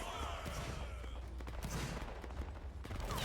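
Scattered musket-style shots crack in a multiplayer battle game, a faint volley of distant bangs and thuds spread unevenly across the moment, with muffled voices underneath.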